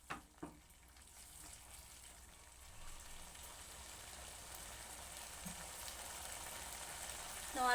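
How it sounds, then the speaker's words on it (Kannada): Rajma masala spices and curry base fry in a pan, a soft steady sizzle that builds slowly, with a couple of faint clinks near the start and a brief louder scrape at the end. "ಇವಾಗ ಎಲ್ಲವೂ ಫ್ರೈ ಮಾಡೋಣ"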